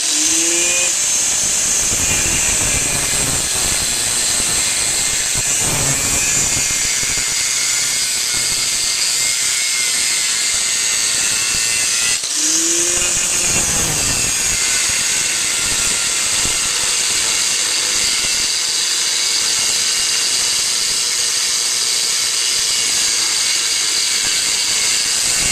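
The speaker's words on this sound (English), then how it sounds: "So we'll just take the cutoff wheel and slice it along this side below the weld." An abrasive cutoff wheel slices through metal just below a weld, giving a sustained high-pitched grinding whine that runs nearly unbroken for the whole stretch, close and loud, with a brief catch partway through.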